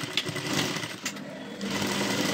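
A sewing machine stitching fabric in a beginner's sewing lesson, whirring close and loud in a continuous high-pitched run with a slight dip midway, no speech over it.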